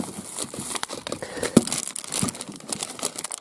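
A thin plastic tube tent from a survival bag crinkles and rustles as it is handled up close, with irregular crackling bursts and one sharp crunch partway through.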